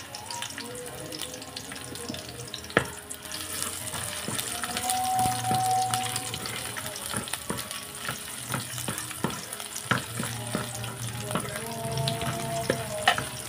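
Garlic and onion sautéing in a casserole pan for a home-cooked dish, a steady sizzle and crackle of oil with scraping and stirring clatter, plus occasional splashes of water, all close and continuous.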